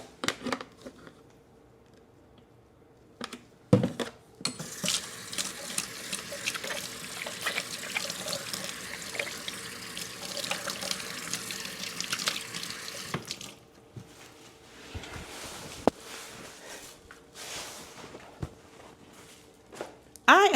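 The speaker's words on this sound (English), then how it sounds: "Let me wash my hands." A kitchen tap runs into a sink while someone washes their hands, a steady rushing stream that starts after a short quiet and a clunk, continues for roughly nine seconds, then cuts off to small drips and footsteps, with no talking.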